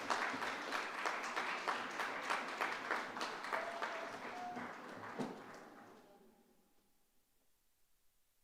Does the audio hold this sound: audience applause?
yes